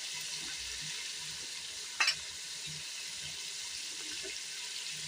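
Beef fries in oil with ground spices in a pan, giving a steady, even sizzle with a sharp clatter of stirring about midway and a softer scrape near the end.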